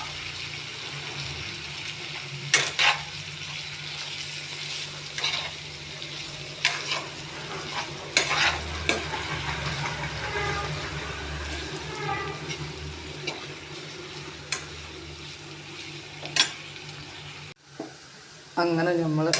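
Potatoes sizzle and fry in a pan while being stirred with garam masala and coriander powder, a steady crackle broken by sharp scraping strokes of the spoon, with a brief tap of running water near the end.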